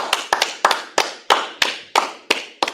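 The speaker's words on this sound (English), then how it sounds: "All right, clap it up." Rhythmic hand clapping in a history class, sharp loud claps in a slow steady beat, roughly eight paired strikes spaced about a third of a second apart, close and clear with no talking.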